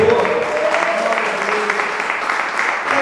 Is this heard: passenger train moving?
no